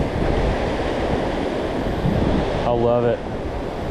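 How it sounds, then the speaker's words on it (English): Ocean surf washes onto a beach in a steady, broad roar, mixed with wind noise, while someone speaks briefly near the end. "There's nothing better than listening to those waves, watching the water."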